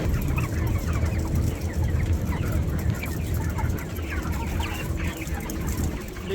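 Many chickens on a poultry farm cluck and chatter continuously at close range, with a dense, low flock murmur under scattered sharper clucks.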